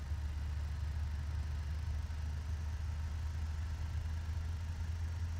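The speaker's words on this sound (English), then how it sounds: "We're going to listen to the engine start from back here." An engine heard from behind, a steady low rumble at an even idle throughout, with no clear start-up surge.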